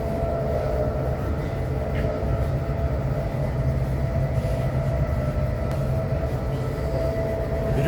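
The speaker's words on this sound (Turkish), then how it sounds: "Şimdi bundan sonraki tren inşallah bizim trenimiz. Gelmek üzere." A train arriving at a station rumbles steadily with a low, continuous drone and faint rail squeal, sustained throughout, without any speech.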